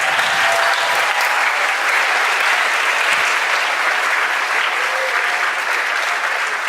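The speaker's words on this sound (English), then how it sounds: "give one more round of applause to these lovely actors" Theatre audience applauding the actors after a first show, dense sustained clapping from a full room throughout, loud and close, with a faint voice briefly under it.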